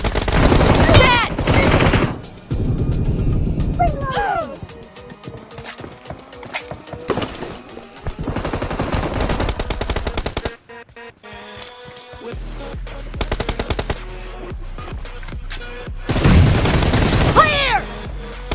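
Rapid bursts of automatic gunfire in the mobile battle-royale game BGMI, loud and dense volleys with short gaps, mixed with game sound effects and occasional voice callouts.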